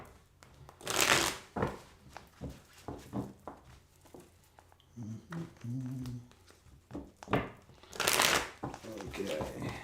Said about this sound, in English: So just bear with me while I shuffle.